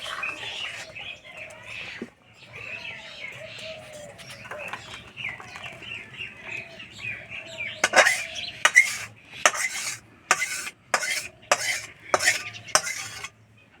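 Pitha dumplings stirred in hot milk in a pot, a spoon scraping and knocking against the pot in irregular strokes that grow louder and more rhythmic toward the end, close by with no voices.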